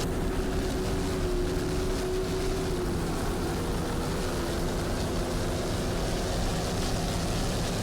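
Engine of the brand new Phantom Fury offshore racing powerboat in a marathon race, a dense, loud continuous roar mixed with rushing wind and water, with a faint tone drifting in the first seconds.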